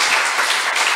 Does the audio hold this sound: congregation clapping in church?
yes